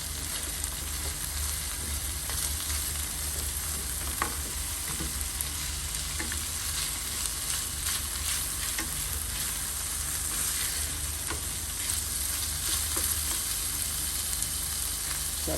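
Codfish sizzles steadily in a hot pan with softened peppers, onions and garlic, a loud, continuous frying hiss that stays even throughout with no voices.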